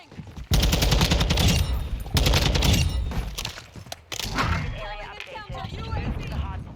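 Rapid rifle fire from a TAQ-56 (SCAR) in Modern Warfare 2 crackles in dense bursts, loud and close, with game effects layered over it and someone talking underneath.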